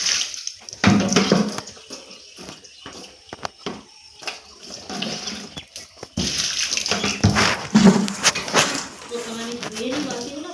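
Water gushes from a hose pipe as buckets are washed in a village home, a splashing flow that rises and falls in bursts, louder in the second half, with someone talking over it throughout.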